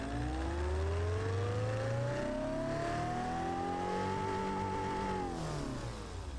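A modern car engine with a French character in the Automation game revs up smoothly with a rising, buzzy tone, holds near the top, then eases off, loud and continuous with no talk.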